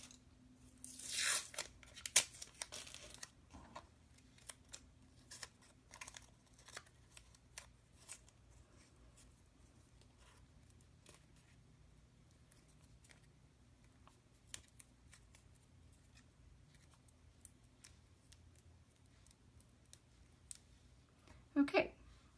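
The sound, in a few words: tape being torn and wrapped around a figure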